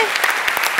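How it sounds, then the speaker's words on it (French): Audience applause closing an evening talk on the brain and art, a short burst of dense clapping with a few louder claps standing out. "On prend les applaudissements."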